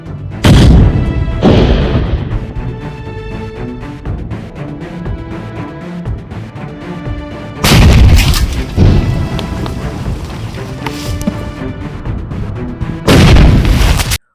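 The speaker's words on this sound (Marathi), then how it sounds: "5 इंजिन व 5 तराफे जिलेटिनद्वारे स्फोट करून नष्ट केले।" Gelatin explosives blasting illegal sand-mining engines and rafts, heavy booming detonations at intervals with long rumbling decay between them, loud and outdoors.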